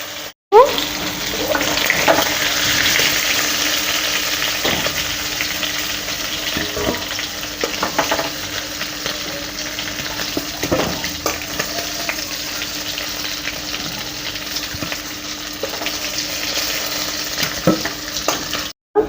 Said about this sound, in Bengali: এখন একটু লাল লাল করে আমরা ভেজে দেব, তারপর এটাকে নামিয়ে দেব।